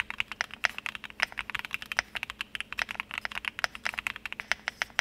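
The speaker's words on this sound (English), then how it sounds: "you hear that space bar" Fast typing on a mechanical keyboard fitted with Kinetic Labs Candy Shop keycaps. Steady, clacky keystrokes sound close and moderately quiet, with occasional heavier space bar hits and no talking.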